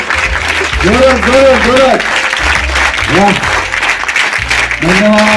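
A crowd of Scout, Guide and NCC students at a camp claps steadily, with a loud voice speaking over the applause throughout.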